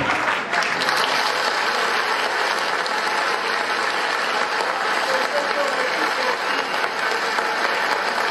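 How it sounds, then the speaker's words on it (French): Audience applause for a performing artist at an awards ceremony, a steady, fairly loud wash of clapping that holds through the whole stretch with some voices mixed in. "Est-ce qu'on peut applaudir pour l'artiste?"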